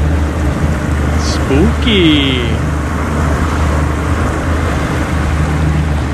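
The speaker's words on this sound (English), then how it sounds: "Hard to hear over that big old motor in the back. Big old 60 horse, 7 rude. Got the 2 stokes" A big 60-horsepower two-stroke outboard motor drives a fishing boat on Oneida Lake in December, a loud steady low drone and hiss running throughout, with a short spoken word over it.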